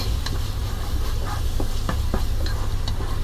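Potatoes and onions with ginger and garlic frying in oil, a steady sizzle with scattered scrapes and taps of a spoon stirring in the pan, no talk.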